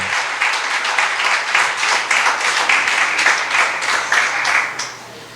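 Congregation at Iglesia Avivamiento applauds during a church service, a dense, steady wash of many hands clapping together for about five seconds, then tapering off at the end; no talk is heard over it.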